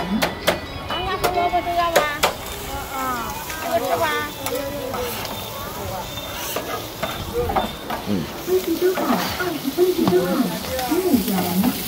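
A street vendor in Pudong, China stir-fries rice in a wok, with sizzling and scraping spatula strokes mixed with loud nearby chatter and clinking throughout.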